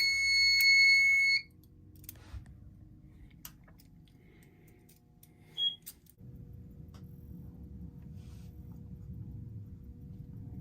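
A loud fire alarm tone in a temporal code 3 pattern blares for just over a second, then cuts off, leaving a low hum and a few faint clicks.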